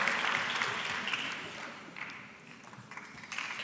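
Audience applause for Isabel Azevedo at a dental professional oath ceremony in Lisbon, a steady hall-filling patter of many hands that eases slightly midway and then swells again.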